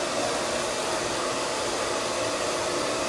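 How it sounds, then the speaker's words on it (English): A twin turbo salon blow dryer drying hair during a layered haircut, a loud constant whooshing roar holding steady and close the whole time. "Twin turbo blow dryer."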